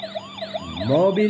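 A toy ambulance siren wails in repeated rising and falling sweeps, close and clear, before a voice briefly speaks over its end.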